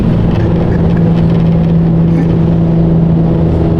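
A Corvette C8 accelerates through the gears, a steady loud engine drone with a strong low hum and tonal whine, heard from inside or nearby without speech.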